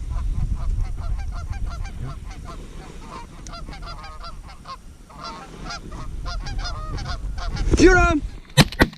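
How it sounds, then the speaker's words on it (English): Real geese honk repeatedly during a waterfowl hunt, a chorus of overlapping calls that builds toward the end, joined by a few sharp, loud, close honks over faint wind. "Real geese for the win."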